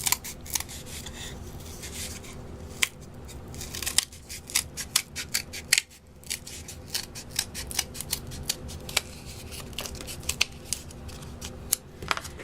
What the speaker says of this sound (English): I'm going to cut along the line I just made.